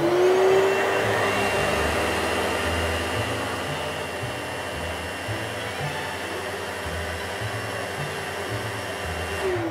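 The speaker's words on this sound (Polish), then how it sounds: "wlewamy wodę do takiego znaczka, który jest tu wyraźnie pokazany i włączamy ten odkurzacz na 15 sekund." A wet vacuum cleaner runs its self-cleaning cycle with water poured in, a steady loud motor whine with a churning, gurgling low rumble pulsing underneath for several seconds.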